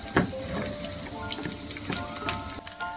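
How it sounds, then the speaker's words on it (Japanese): Yakisoba noodles, seasoned with sake and salt, sizzle in a pan over medium heat, giving a steady close crackle with scattered sharper pops and clicks and no one speaking. "そばを今ですね中火で焼いています"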